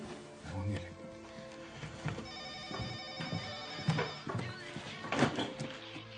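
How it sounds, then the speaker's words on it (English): A telephone rings repeatedly at low volume, its tones mixed with soft thumps and faint background activity. "the phone's ringing"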